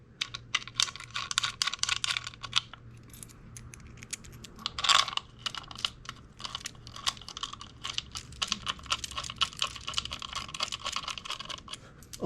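Bolts hand-started into a GB Racing engine cover on a Yamaha R3 motorcycle: quick, light metallic clicks, rattles and taps of bolts being handled and threaded in, close and fairly continuous, with one sharper clink midway and no talking.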